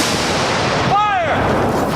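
Historical reenactment artillery battery of the Norfolk Light firing a cannon, a loud sustained blast roaring across the whole moment, with a shouted command rising briefly in the middle.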